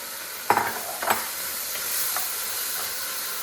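Carrots tumble into a pot of split pea soup with a ham bone, two quick clattering drops over a constant sizzling hiss from the hot pot, close and without any talking.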